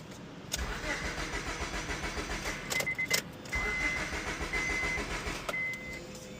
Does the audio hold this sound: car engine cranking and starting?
yes